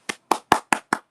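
Five sharp hand claps in a steady, even rhythm, close and clear, with silence between each clap.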